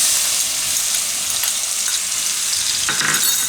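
Garlic and green chillies hit hot oil for a Gujarati fenugreek-and-eggplant curry, giving a loud, continuous close sizzle with a brief stirring scrape near the end.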